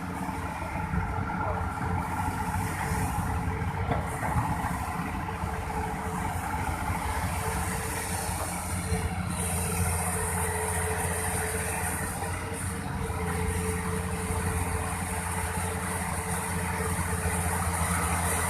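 A Volvo 480DL excavator engine runs at a steady idle throughout, a continuous low, heavy drone with no breaks and no voices.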